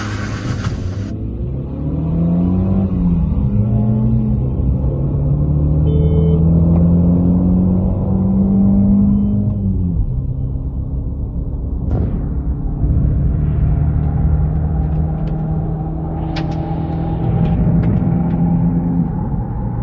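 A Santro Xing and a Ford Figo 1.2 start up and accelerate in a drag race. The engines rev loudly and steadily, rising in pitch through the gears, with whine and rumble filling the whole stretch.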